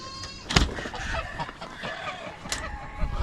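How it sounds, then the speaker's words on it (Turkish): Geese honk loudly and repeatedly nearby on a farm, a few sharp calls standing out over a noisy outdoor background. "bu kazlar da şunu fark ettim arkadaşlar. He, bağırıyorlar yine"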